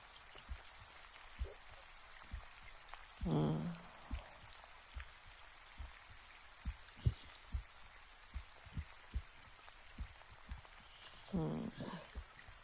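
Scattered raindrops tap irregularly at a soft level, with a couple of brief murmuring voice-like sounds mixed in.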